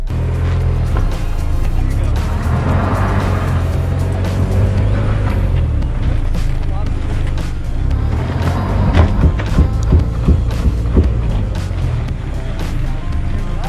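A 2020 Mazda CX-30 crossover in off-road mode grinds over rough terrain, its steady engine drone and low rumble continuous, with intermittent scrapes and knocks from the tires and underbody.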